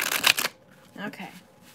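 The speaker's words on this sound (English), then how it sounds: "This is the last shuffling." Tarot cards shuffled by hand in a quick riffling burst during a livestream reading, followed by a pause and a person speaking briefly.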